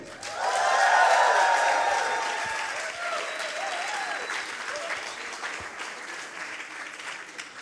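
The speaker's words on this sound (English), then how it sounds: "With a hysteric applause, Yang Fan Peng." Hearty audience applause at a science slam during a science week event, swelling quickly, peaking early and then tapering into a sustained lower level, with a voice speaking over part of it.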